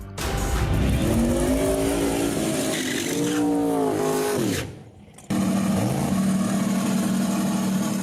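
A 1990 Mustang Fox Body race car with a turbocharged Big Block Chevy engine roaring loud and close, pitch climbing through gear changes, a brief drop-off, then a steady heavy drone.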